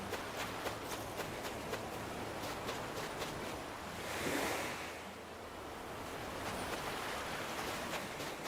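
Ocean waves wash in a steady surf rush from the video game Animal Crossing: New Horizons, with one swell rising and fading midway, alone and without talk.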